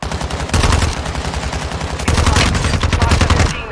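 Rapid, loud automatic gunfire from the 9mm ISO in the shooter Warzone, sustained bursts close by that cover the whole few seconds with a short break in between.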